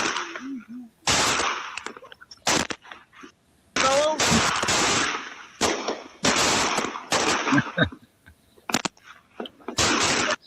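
Fireworks on US Independence Day: repeated sharp bursts and crackling blasts, some in rapid clusters, separated by brief gaps, with a voice and faint whistling sounds between the explosions.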